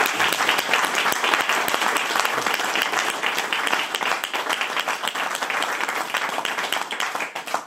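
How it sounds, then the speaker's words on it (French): An audience at a French opera and painting performance applauds loudly for the pianist and composer, many sharp hand claps merging into a thick, sustained ovation. "Je pense qu'on l'applaudisse vraiment bien fort."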